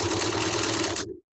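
A sewing machine stitches down the short side of a fabric mask, a close, steady whirring run for about a second that stops abruptly.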